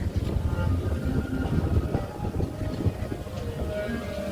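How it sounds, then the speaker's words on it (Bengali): Strong wind blowing along the Ganges riverbank, a steady broadband rush with gusty low rumble that stays loud and continuous throughout. "প্রচুর হাওয়া দিচ্ছে"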